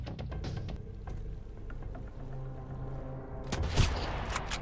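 Gunfire during an outpost assault in the survival game Sunkenland, with a rapid string of sharp shots in the first second, scattered single shots after, and a louder burst near the end.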